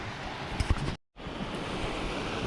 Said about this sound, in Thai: มาครับน้ำไหลเลย